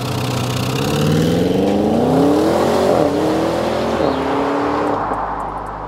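An Audi RS6 wagon accelerates hard from a standstill, its engine note climbing loud and close through several gear changes with brief dips between shifts before easing off near the end.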